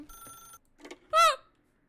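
A telephone rings in The Stanley Parable video game, with a steady tonal ring, a short pause, a softer burst and then one loud, clear ringing burst close up, followed by silence.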